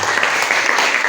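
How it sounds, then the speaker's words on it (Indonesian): Applause breaks out from a classroom of students cheering the winning team in a group game, steady dense clapping filling the short moment at close range. "Mana tepuk tangannya untuk kelompok panda?"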